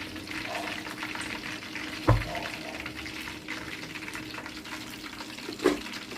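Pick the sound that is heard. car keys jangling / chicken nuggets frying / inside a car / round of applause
chicken nuggets frying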